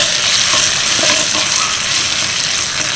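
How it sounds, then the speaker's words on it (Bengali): Chopped medium-sized onion and Kashmiri chilli powder fry in hot oil, a steady loud sizzle with stirring scrapes throughout, no voices. "তার সাথে দিয়ে দিচ্ছি একটা মিডিয়াম সাইজের পেঁয়াজ কুচি"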